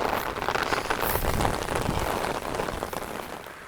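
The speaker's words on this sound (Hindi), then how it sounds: "बहुत ज़्यादा प्रेशर पड़ रहा है बारिश का, और मैं गीला हो रहा हूँ साइड से सारा।" Heavy monsoon rain drums densely and loudly on an umbrella held close overhead, a continuous hiss with no voice over it.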